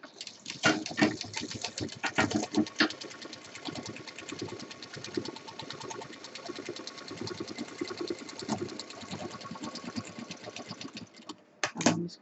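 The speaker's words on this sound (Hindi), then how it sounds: "और डबल मशीन चलाते हुए इसको हम यहाँ पे सिल देंगे।" A sewing machine stitches fabric for a feeding bottle cover, running in a fast, continuous mechanical chatter with brief pauses and speed changes, close and fairly quiet throughout.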